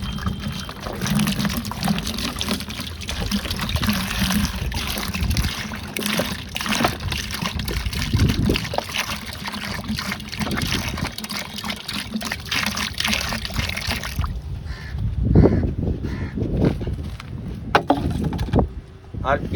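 Water poured into a 2-litre bottle makes a continuous splashing, gurgling flow that stops abruptly near the end, followed by a few faint knocks and handling sounds.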